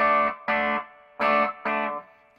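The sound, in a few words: guitar distortion pedal with boost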